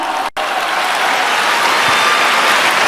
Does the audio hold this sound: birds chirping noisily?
no